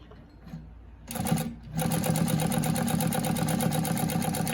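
A Consew P1206RB-1 walking foot sewing machine runs at slow speed, starting after a brief pause and settling into a steady, rhythmic mechanical chatter close to the listener.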